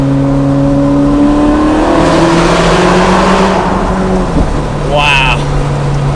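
Naturally aspirated Ferrari 458 Spider engine droning loud and close through steady harmonic tones with wind rush, swelling as it passes under a small bridge underpass, pitch sweeping upward near the end.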